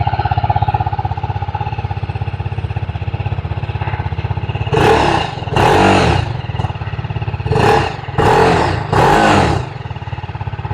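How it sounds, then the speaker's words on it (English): A 2024 TVS Apache RR310 motorcycle idles with a steady, close exhaust burble, then is revved in five sharp, punchy bursts, two spaced apart, then three in quicker succession, before settling back to idle. "Exhaust note has not changed, it is still the same."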